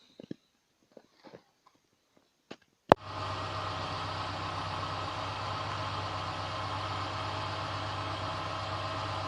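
A few faint clicks and taps, then a ZAZ Tavria-Slavuta engine with a repaired muffler starts with a sharp burst and settles into a steady, even idle rumble that continues to the end.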